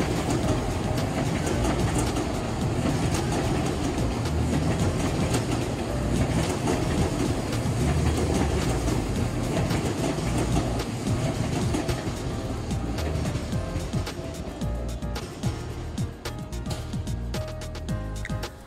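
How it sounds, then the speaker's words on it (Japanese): A Seibu Railway train, the second Smile Train, rolls past near Tokorozawa Station with a loud, steady rumble and clickety-clack of wheels that holds throughout and eases slightly toward the end; no one speaks. "スマイルトレインの2台目です。"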